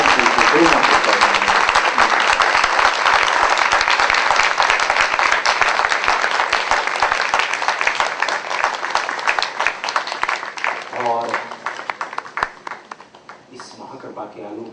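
An audience applauds at a spiritual gathering welcoming a revered guru in Atlanta, a dense sustained wash of clapping that gradually thins out, while a speaker talks over it.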